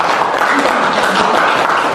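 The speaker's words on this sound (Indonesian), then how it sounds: "Tepuk tangan untuk Bu Desta." An audience claps for a speaker at a school event, dense steady applause filling the whole moment at close range.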